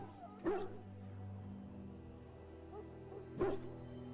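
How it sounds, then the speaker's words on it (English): A wounded dog in Dragon Age: Origins gives two short, soft yips or whimpers about three seconds apart over a quiet background hum. "Now I can treat the dog properly, poor fella."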